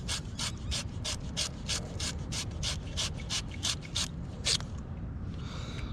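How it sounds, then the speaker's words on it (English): A hand scoring or cleaning tool scratches a shower valve fitting, prepped for expansion PEX, in a steady series of about fifteen quick, even rasping strokes, close and distinct with no talk. "you're going to take your scoring tool or cleaning tool, whatever you want to call this"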